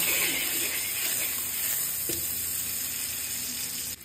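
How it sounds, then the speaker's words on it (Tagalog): Butter melts in a hot pan with a steady, fairly loud sizzle and hiss that runs the whole time, with a faint stir or scrape partway through. "Magpatunaw na tayo ng butter"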